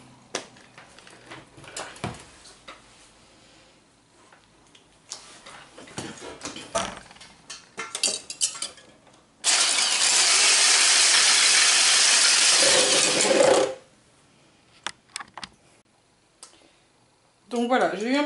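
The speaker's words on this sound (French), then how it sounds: "monter les blancs en neige" Egg whites being whisked to stiff peaks for a speculoos Nutella tiramisu produce a loud, steady, hissing whir that runs for about four seconds and then cuts off. Quieter kitchen clatter comes before and after it.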